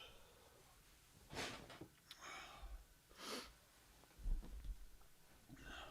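A man with a head cold sniffles close to the microphone, a few sharp, breathy nasal sniffs and snorts at irregular intervals over a quiet room, with no talking.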